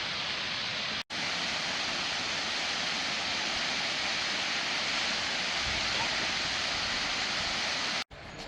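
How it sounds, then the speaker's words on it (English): Waterfall at Selkirk Shores State Park in New York, a loud, steady, broadband roar of falling water that stays constant throughout, with two brief cuts. "I'm going to get another view of the falls over here."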